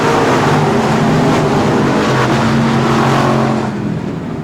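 Race cars at Texana Raceway Park roaring off the green flag start, a loud continuous engine drone with layered revving tones that stays steady and then eases slightly at the end.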